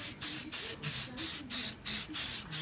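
Short repeated bursts of aerosol spray paint in sand camouflage color being applied to an AR-15 rifle, about eight hissing sprays in a steady rhythm with brief gaps, close and fairly loud, no talking.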